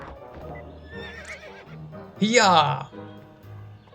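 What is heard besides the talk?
horse neighing and hooves in the video game To The Moon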